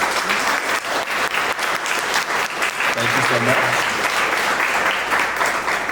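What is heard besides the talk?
audience round of applause for board members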